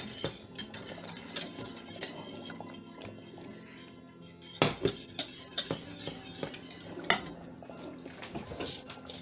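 A spoon stirs plant-based holiday food in a metal pot, with irregular scraping and sharp clinks against the sides, some louder knocks clustering midway, and no talking.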